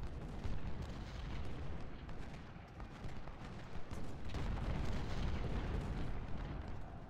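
Artillery fire in the Ultimate General: Civil War battle game at Cold Harbor: a steady, rumbling wall of distant cannon booms and scattered musketry that rolls on without pause.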